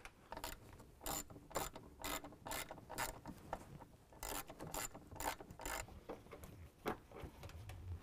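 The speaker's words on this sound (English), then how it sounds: "And reinstall our 10mm nuts. We'll go ahead and tighten those down." A ratchet tightens 10mm nuts on an aftermarket exhaust system, giving bursts of rapid clicking in short repeated strokes with brief pauses between them, close and fairly quiet, with faint metallic rubbing and no talk.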